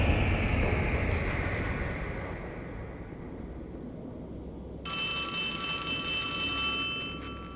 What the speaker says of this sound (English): Dude, answer the phone.